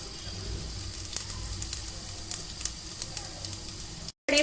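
Cumin seeds sizzle in hot oil inside a pressure cooker on a gas stove, a steady close frying hiss with small crackles throughout, cutting out briefly near the end.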